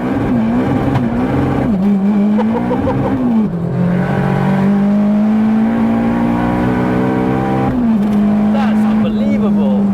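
A 500+ BHP big-turbo Mk1 Cupra pulls hard on high boost, its engine note climbing steadily through long revving sweeps with brief dips at gear changes, loud and close from inside the car while people talk over it.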